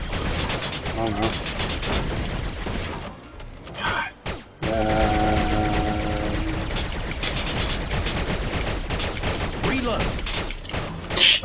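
Rapid bursts of video game gunfire from Attack of the Movies 3D with mechanical reload clicks, dense and loud almost throughout, breaking briefly near the middle, with voices talking over it.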